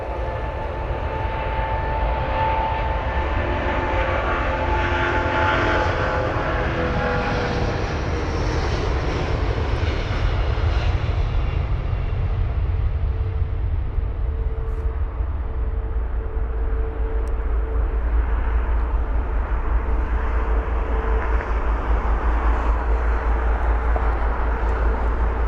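Airbus A330 jet at London Heathrow, a loud sustained engine roar that swells and then slowly fades as the aircraft passes, with a lingering low rumble.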